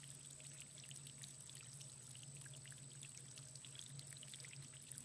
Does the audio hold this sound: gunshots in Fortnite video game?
no